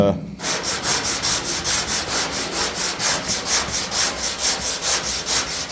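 An 80 grit block hand-sands body filler on a Chevy C10, producing close, loud, rhythmic back-and-forth scratching strokes at a steady quick pace of about four strokes per second.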